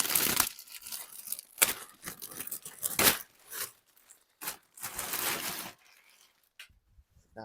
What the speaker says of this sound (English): Now we can take our new windshield out of the plastic carefully.